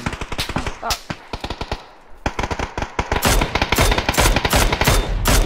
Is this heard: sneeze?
no